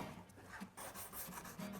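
Hand sanding of a wooden bookshelf piece with sandpaper during a beginner-intermediate woodworking class, short quiet rasping back-and-forth strokes in quick rhythm, close and soft, with no talking.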